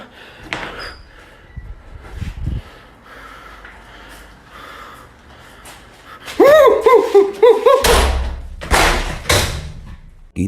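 A door bangs open and slams shut again and again in a dark house at night, several loud thuds and slams clustered near the end, with gasps and snorts between them and low background noise before.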